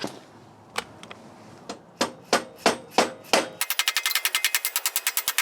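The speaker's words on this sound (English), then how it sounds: "I gotta hit it with the hammer" Hammer blows on the front motor mount of a WR250E motorcycle: a few scattered strikes, then steady close, loud metallic hits that quicken into a fast run of rapid taps toward the end.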